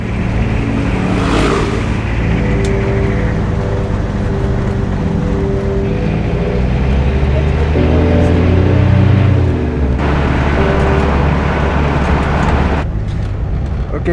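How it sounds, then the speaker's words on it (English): A 4-wheel drive Jeep drives at night with a loud, steady engine rumble and road noise that swells and dips, the drone shifting partway through, with people talking inside over it. "In a 4-wheel drive Jeep thing. Going."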